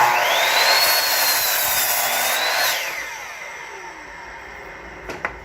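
A miter saw cuts a 45-degree angle in a piece of baseboard: the motor's loud whine rises, holds through the cut, then winds down and fades, heard alone.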